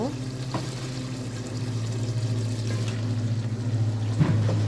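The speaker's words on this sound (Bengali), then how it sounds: "আলুগুলো আমার কষানো হয়ে গেছে। এখন নাড়া দিব।" Potatoes frying in a pan are stirred, giving a steady close sizzle with occasional spoon scrapes over a low background hum.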